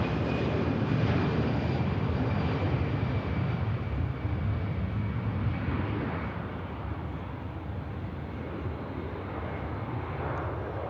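An Airbus A320 departs Manchester Airport for Helsinki, its engines a broad, steady roar that eases slightly in loudness partway through, with a faint thin tone running above it.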